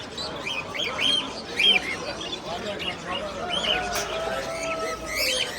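Small birds chirp and tweet in short bright bursts among caged birds at a busy exotic animal market, while crowd murmur and voices fill the background throughout.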